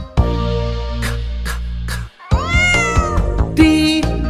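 A cat meows as a sound effect inside a preschool phonics song, a clear drawn-out call over music with sung melody around it.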